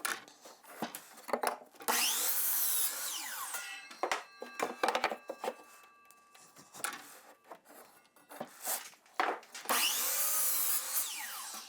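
A power saw cutting wood pieces at a 22.5-degree angle, heard as several separate bursts of whining blade noise biting through the wood, each rising then stopping, with quieter handling gaps between cuts.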